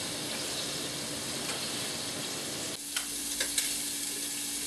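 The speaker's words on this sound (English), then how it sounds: "I'm going to show you the final searing process of these scallops" Scallops searing in a hot pan, a loud continuous sizzle that suddenly thins and quiets partway, followed by a few light clicks and taps.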